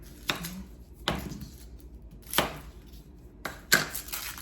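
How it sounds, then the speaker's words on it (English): A knife chops onions on a cutting board in a home kitchen: four or five sharp, separate cuts spaced about a second apart, close and crisp, with no talking. "This is the job that I don't like at all, is chopping onions."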